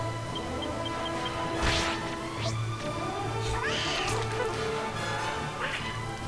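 A cat enemy in Dragon Quest VIII gives a few drawn-out meows over steady game music and background noise.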